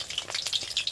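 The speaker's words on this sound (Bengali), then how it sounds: "আমাদের দফায় দফায় একদম ভেজে ভেজে তুলে দিচ্ছি বন্ধুরা" Medu vada, urad dal fritters, deep-frying in hot oil give off a dense, crackling sizzle with quick bubbling pops, close up and fairly quiet.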